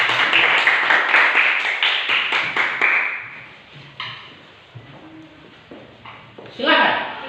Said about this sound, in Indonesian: Kita tepuk tangan dulu buat kelompok.